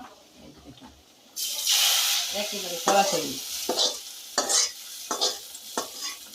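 Hot fried tempering is poured into a pot of lentils and gourd, setting off a sudden loud sizzle followed by bursts of hissing and stirring, with a brief spoken word.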